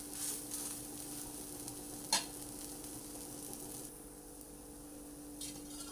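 Farali chilla, a fasting-style savory pancake, sizzles softly on a hot griddle with a steady quiet crackle and one brief clink of a utensil partway through.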